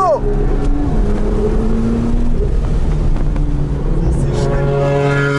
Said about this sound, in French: Oh la Lambo.